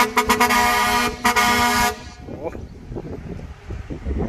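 Loud, blaring horn on a tractor-trailer rig accompanying a combine harvester and backhoe, sounding in several sharp blasts over the first two seconds before cutting off, followed by wind noise and people talking nearby.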